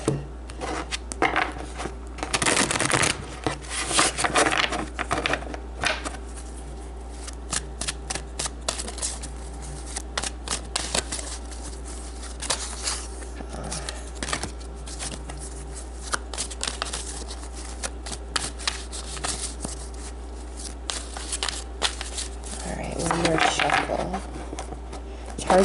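Tarot cards being shuffled by hand in repeated riffling bursts, close and crisp, separated by short pauses with a quiet background hum.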